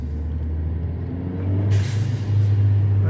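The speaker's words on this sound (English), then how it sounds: "sounds like we already got a blow-off valve" A Ford Fiesta ST driving with a steady engine drone, then a short turbo blow-off valve whoosh hisses out near the middle, close and fairly loud.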